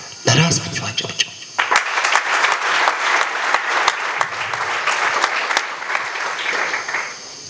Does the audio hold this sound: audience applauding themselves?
yes